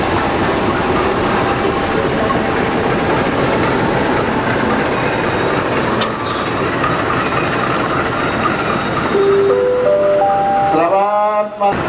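A Mataram passenger train rolls along the rails with a loud, continuous rumble and rattle, ending in rising wheel squeals and tones as it slows near Cirebon Prujakan station.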